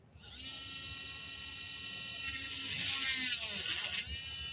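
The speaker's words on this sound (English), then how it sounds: "let's see if this one drills because this one looks a little different because it is a little bit bigger" A small drill spins up and runs with a steady high-pitched whine that shifts in pitch as it bites into the material, close and loud throughout.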